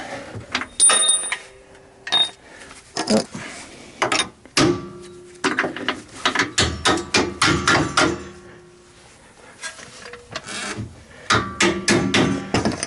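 A bolt is worked into a 4-inch Trail Master lift kit on a Jeep Wrangler YJ, producing loud, close, irregular metallic knocks and taps with short scraping rubs between strikes and no talking.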